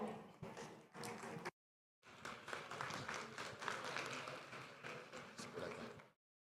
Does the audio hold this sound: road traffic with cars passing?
no